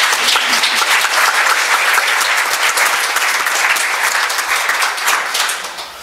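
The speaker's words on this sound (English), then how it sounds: "Please give yourselves a round of applause" Sustained, dense applause from a large audience at a leadership summit fills the room, steady and loud before tapering slightly at the end.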